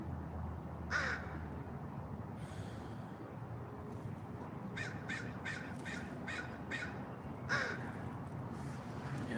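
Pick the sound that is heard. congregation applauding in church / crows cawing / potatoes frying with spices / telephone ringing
crows cawing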